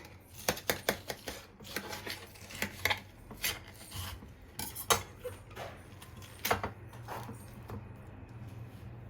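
Knife cutting through watermelon for a mojito, a series of sharp rasping strokes and crisp slicing hits at an irregular rhythm, close and fairly quiet, with no talk.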